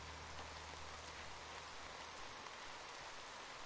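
Rain falls in the video game Horizon Zero Dawn, a dense, even hiss of drops on surfaces that runs steadily from start to end, with a faint low rumble at the beginning.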